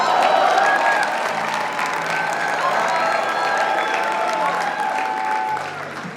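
An audience at a Mumbai fan meet for Shammi Kapoor breaks into loud, sustained applause and cheering as a poet is called to the stage, with a steady wash of clapping throughout.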